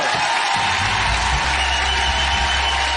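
Studio audience on a French evening talk show applauding and cheering to welcome actress Karine Viard, a dense, sustained roar of clapping and crowd noise throughout.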